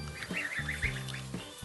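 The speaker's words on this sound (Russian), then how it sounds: "где живут гусята маленькие, а также курочки, и цыплятки, и цесарки" Young farm fowl, goslings, chickens and guinea fowl, call nearby in a quick run of high chirping, quacking-like cries over a low background hum.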